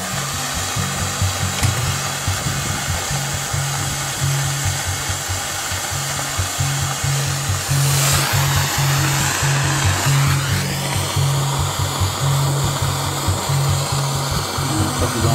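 A heat gun blows steadily and loudly while heating tubing on a homemade 23 cm band vertical antenna, a continuous airy roar with a low electrical hum beneath it and faint handling noises, no talking.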